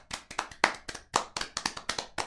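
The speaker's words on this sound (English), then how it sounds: "Please clap." A few hands clapping in an uneven, sparse rhythm, about a dozen sharp claps close by with brief gaps, no voices.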